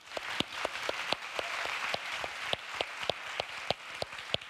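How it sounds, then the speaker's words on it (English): Audience applause at a women's forum presentation: a thin, moderately quiet patter of clapping from a small crowd, with a few sharp, distinct individual claps standing out at an irregular rhythm throughout. "please, a round of applause for the team who has worked on this barometer"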